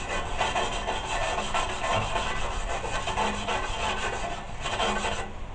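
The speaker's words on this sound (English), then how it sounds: "wire brush the whole thing," A wire brush scrubs steadily over a rusted chrome car bumper, making a continuous close, harsh scratching rasp with rhythmic strokes and no talking.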